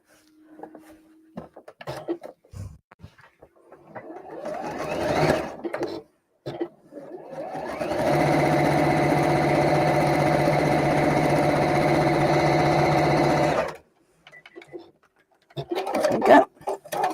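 A sewing machine stitches fabric in one steady, loud run of about six seconds, with scattered handling knocks and rustles before and after.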